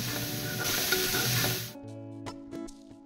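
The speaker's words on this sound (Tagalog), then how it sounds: "Maglagay na tayo ng mantika at bawang." Garlic sizzling in hot oil in a pan for a crab-in-coconut-milk dish, a loud steady frying hiss that cuts off abruptly, then quieter crackles and a few clicks.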